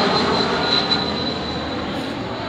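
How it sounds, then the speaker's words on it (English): An airplane passes overhead, its broad steady engine roar filling the outdoor air at moderate loudness with no talking. "airplane."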